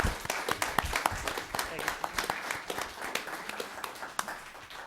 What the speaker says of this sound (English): I think Mr. Franny deserves a round of applause